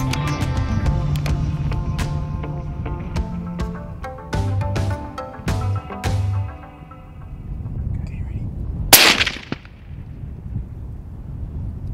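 A single sharp, loud rifle shot cracks out while hunting a waterbuck bull in Namibia, coming after a stretch of quieter background sound.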